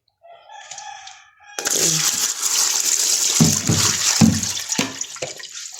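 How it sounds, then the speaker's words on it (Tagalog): Running tap water splashing as herbs are rinsed by hand, steady pouring with irregular splashes and handling sounds, after a rooster crows faintly in the background at the start. "Ugasan ko na po siya ng tubig."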